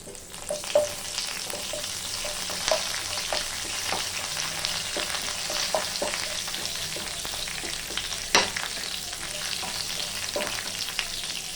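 Chana dal and curry leaves frying in hot oil with cumin and whole garam masala, giving a steady close crackling sizzle for the whole stretch, with a few sharper spatters and stirring clicks and no talking.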